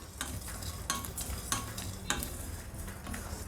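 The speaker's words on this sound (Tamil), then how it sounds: "ஸோ ஒரு 2-3 மினிட்ஸ் இதை நல்லா வறுத்துட்டோம்." Spices dry roasting in a pan for sathakuppai rasam, stirred with a spoon: soft steady crackle with several distinct scraping strokes against the pan, close and quiet, no voices.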